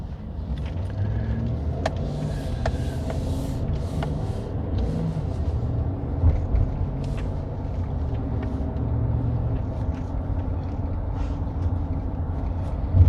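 A car driving along on the road, a steady low engine and road rumble with a few faint clicks and rattles throughout, no voices.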